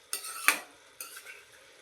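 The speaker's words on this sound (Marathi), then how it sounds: "आपण इथे नीट हलवून मिक्स करून घेणार आहोत" A spoon stirs ridge gourd vegetable curry in a pan, giving a few short scraping and clinking strokes, close, each followed by a soft sizzle as the mixture settles, with no talking.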